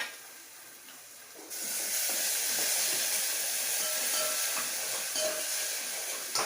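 A paste of green garlic, chili and salt sizzles loudly in a hot pan with ghee for a pumpkin curry, a steady close hiss that swells after a quieter start, with faint stirring.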